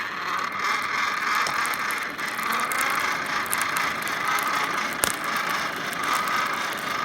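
A hand-cranked forge blower turning steadily to feed air into a charcoal fire, giving a continuous mechanical whirring and ratcheting hum with a faint click or two, close by and with no talk.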